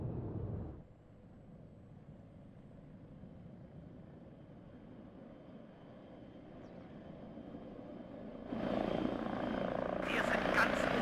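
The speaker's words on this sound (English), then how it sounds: "Really cool using a lot of helicopters now." Military helicopters in the WARNO strategy game, a continuous rotor and engine drone at moderate level that grows louder and brighter near the end, under faint game ambience.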